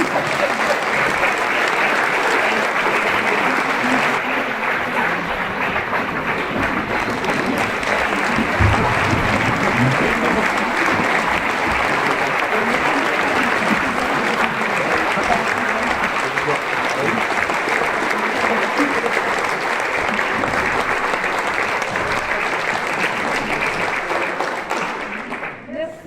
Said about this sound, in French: Merci à tous d'être venus si nombreux ce soir pour nous applaudir.